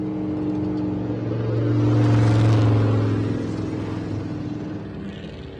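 Off-road race cars leaving the start line at the 2019 King of the Hammers desert race, a steady loud engine roar that swells to a peak and then recedes into the distance, with no voices over it.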